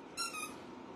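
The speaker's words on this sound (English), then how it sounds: "Renee says that that squeaking toy has her dog Nala looking for hers." A squeaking toy lets out a single short, high-pitched squeeze squeak, faint and alone against quiet room tone.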